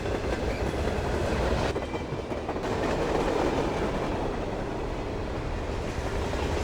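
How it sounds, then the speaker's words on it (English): A train running on rails, with a steady dense rumble and rattle of wagons rolling along the track, continuous and loud throughout with no voices. "A train to freedom, to mother and brother in Madras."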